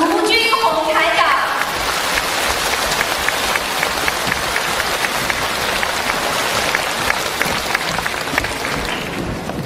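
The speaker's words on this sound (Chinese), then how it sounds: "让我们用掌声感恩大慈大悲的卢军红台长。" An audience at a Buddhist Dharma assembly in Hong Kong applauds to thank the host: a voice is heard briefly at the start, then sustained, full clapping from many people continues evenly to the end.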